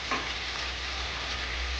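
Kashmiri milk chicken frying in a pan with freshly added chopped coriander, a steady soft sizzle with a brief stirring scrape near the start, close and quiet with no talk.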